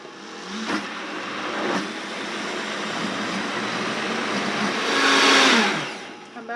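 A Vitamix blender whirs through a thick turkey tetrazzini sauce, a loud continuous motor roar that shifts pitch as the load changes and swells toward the end, with no talking.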